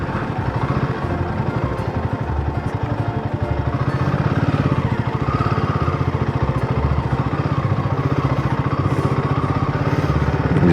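A motorcycle engine rumbling steadily on a tricky, rough mountain road returning from Adi Kailash, loud and close with a constant throbbing beat and some clatter, no speech.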